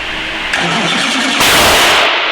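A 700hp DW86 engine, back in use after a year in a trailer, cranks briefly and then fires, catching with a loud, close roar that holds strongly to the end.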